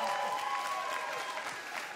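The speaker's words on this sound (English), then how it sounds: "Then you can cheer for them a little more." A church congregation applauds and cheers for a visiting ministering couple, with a steady wash of clapping and a few raised voices holding at an even level for a couple of seconds.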